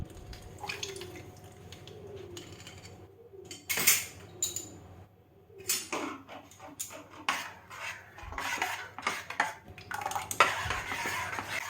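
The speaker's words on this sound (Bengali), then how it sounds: "চিনিটা যতক্ষণ না গুলছে ততক্ষণ এইভাবে নাড়িয়ে একটু চিনিটাকে গুলিয়ে নিতে হবে" A spoon stirs sugar into a glass of chilled bel (wood apple) sherbet, made with lemon juice and yogurt, giving soft swirling liquid sounds with sharp clinks against the glass, close and fairly quiet.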